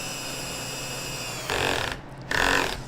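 Two short bursts of a power drill boring into wood for a sawhorse, the motor whining up loudly for about half a second each with a brief pause between, following a quiet stretch of steady hum.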